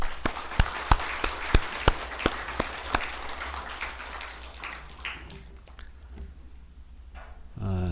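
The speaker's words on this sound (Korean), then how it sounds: "격려와 감사의 박수 부탁드립니다" A church congregation claps in a steady, even rhythm of sharp hand claps for about three seconds. The claps then fade into a quieter room murmur.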